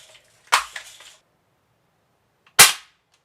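Two sharp BB gun shots from a Crosman 760, the first followed by a brief rattling impact, the second about two seconds later, loud and close with quiet between.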